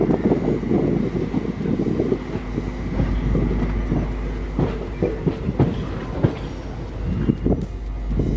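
A train rumbles and clicks along the rails as it slows on the approach to Thalassery station, with steady low clatter and wind buffeting the microphone throughout.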